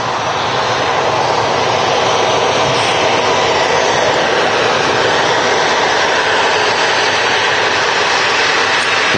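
A Ryanair UK airliner arriving from Tenerife at Manchester Airport, its jet engines producing a loud, steady roar that fills the whole stretch without easing.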